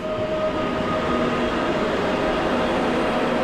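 A PESA Dart train passing at Warszawa Wschodnia station, a loud, steady rail rumble and wheel roar with a faint sustained tone, continuous and close, with no talk.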